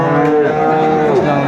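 A Friesian or crossbred bull calf at a cattle market gives one long, loud, close moo with a falling pitch, set against a faint crowd murmur.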